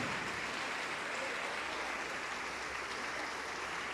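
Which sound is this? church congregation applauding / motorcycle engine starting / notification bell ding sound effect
church congregation applauding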